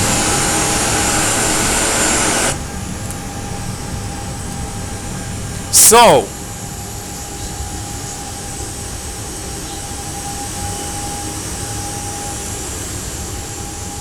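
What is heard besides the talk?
Airbus A320 jet engine exhaust running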